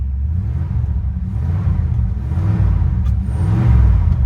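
A 1981 Ford F150 truck engine idles with a deep, steady rumble up close and swells slightly as it revs toward the end.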